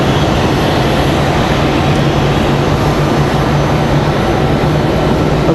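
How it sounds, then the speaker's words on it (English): A Delta airliner arriving at Raleigh-Durham International Airport from Orlando sends out a constant, loud broadband engine roar with a low steady drone, unbroken for several seconds. "Delta 1337 coming in from MCO."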